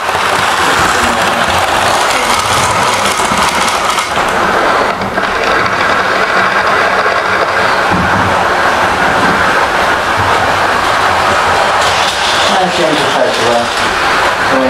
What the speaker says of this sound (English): I'm going to get the train running for you